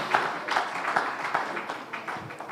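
Applause at the 2022 ThriveAgric agricultural conference as the speaker Oshone comes forward on stage: a fairly faint, steady patter of many hands clapping, with slight rhythmic swells and no voices.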